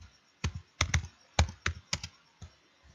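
A file name is typed on a computer keyboard in short uneven bursts of close, crisp key taps with brief pauses between them, no voices.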